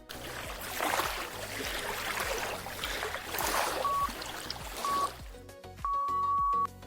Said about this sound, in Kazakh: Теңіз толқынының шуы.